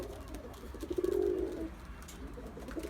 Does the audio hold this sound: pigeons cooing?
yes